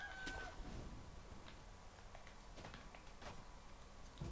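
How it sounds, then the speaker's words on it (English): Rooster crowing and clucking in Sekiro: Shadows Die Twice, set in Mibu Village, comes as several short calls scattered over a steady ambient game background, moderately faint with no talking. "Oh, the roosters are back."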